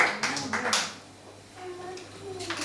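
A church congregation claps briefly to acclaim the Lord, a short burst of hand claps at the start fading under voices.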